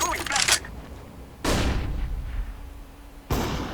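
Bursts of gunfire in Counter-Strike: Global Offensive, three loud rapid volleys separated by quieter gaps, with a voice speaking faintly underneath.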